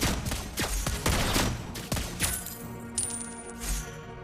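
Lesley's gun fires in the video game Mobile Legends, a rapid run of sharp shots and bursts with some metallic pings from the match, loud and close, with no talking.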